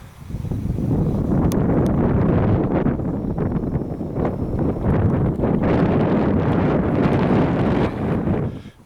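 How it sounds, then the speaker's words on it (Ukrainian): Strong wind buffets the microphone at an observation tower, a loud, steady roaring rush with gusty swells lasting throughout and no one speaking. "Досить сильний вітер"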